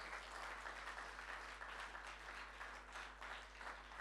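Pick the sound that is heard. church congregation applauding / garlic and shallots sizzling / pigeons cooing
church congregation applauding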